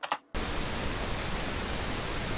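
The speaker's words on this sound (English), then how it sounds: "let's see what happens if I turn on the pink noise 12 dB crash factor" Steady broadband pink noise at 12 dB crest factor switches on abruptly after a brief moment of quiet and holds loud and constant to the end.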